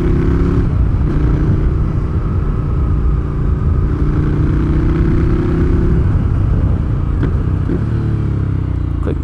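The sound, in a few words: Ducati Scrambler V-twin motorcycle engine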